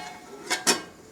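A lid goes onto a cooking pot of egg and water lily curry with two quick metallic clinks, close and clear against a quiet kitchen.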